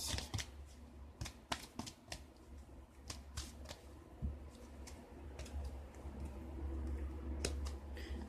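Playing cards riffle and snap crisply as one card is drawn from a deck, a series of quick close flicks and taps over a faint low hum.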